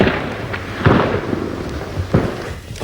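Gunfire and explosions around American tanks under attack by German Panzers, heard as a few sharp distant bangs and bursts scattered over a continuous rumbling battle din, with no voices.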